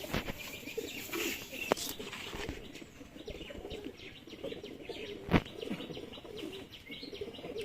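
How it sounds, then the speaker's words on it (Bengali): Pigeons in a loft give soft, faint cooing with scattered chirps and occasional wing flutters, one sharper bump standing out against a quiet, low background. "এটা খুব পছন্দের একটা পায়রা"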